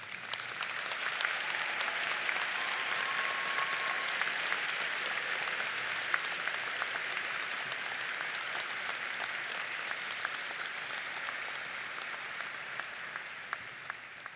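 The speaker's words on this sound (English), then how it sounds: "a round of applause for our graduates of 2020" A commencement audience gives a long, even round of applause for the graduating class at a 2021 academy ceremony, a dense wash of clapping from a sizeable crowd heard at moderate distance, holding steady throughout.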